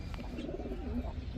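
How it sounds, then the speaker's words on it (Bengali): A white racer homing pigeon, a female, gives soft low cooing close by, a short throaty burble over a dense noisy background. "হোয়াইট রেসার একটা মাদি কবুতর।"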